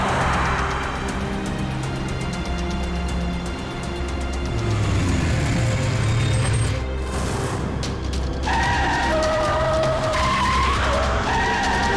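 Car skidding and braking hard on a road, a loud sustained tyre screech with engine roar throughout, rising into a sharper squeal near the end.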